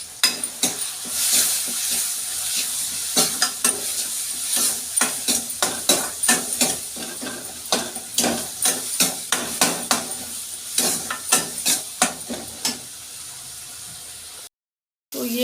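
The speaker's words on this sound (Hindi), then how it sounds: "तो ये मसाला मेरा भून रहा है, अभी भुजा नहीं है" Masala paste sizzles and roasts in a pan for tinda, with steady frying hiss and repeated sharp scraping strokes of a spatula stirring close by, briefly cutting to silence near the end.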